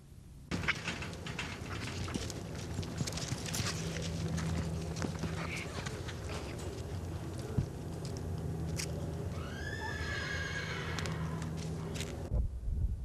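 During calf roping training, a horse walks with soft, muffled hoof thuds that are hard to pick out from the steady outdoor background rumble.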